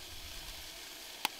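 A whole finely chopped onion hits hot oil while truck camping, giving a steady, soft sizzling hiss with one sharp click near the end and no voices.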